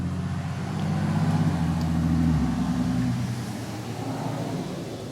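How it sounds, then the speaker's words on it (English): A loud truck with a loud muffler passes close by, its low engine rumble swelling to a peak, then fading as it drives away. "hang on, loud truck coming by"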